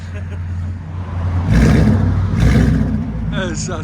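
2013 Ford Mustang GT with a 5.0L V8 and Solo Performance exhaust, revving hard twice in loud, roaring bursts over a steady idle rumble, with people talking close by.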